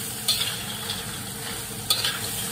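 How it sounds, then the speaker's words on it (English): A spoon stirring crawfish in a pot, scraping and swishing twice against the metal over a steady sizzle close by, with no one talking. "Stir it around."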